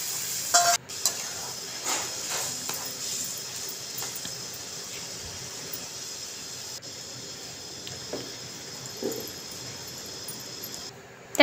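Masala fries in oil for a fish curry with a steady hiss and crackle, occasionally stirred with clinks against the pan. Sharp knocks open and close the sequence.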